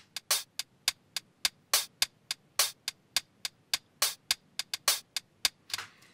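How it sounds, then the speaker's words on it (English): A second hi-hat loop in a music production plays alone, mixing short ticks with longer open, sizzling hits in a busy syncopated groove, bright and upfront. "We got the second hi-hat loop."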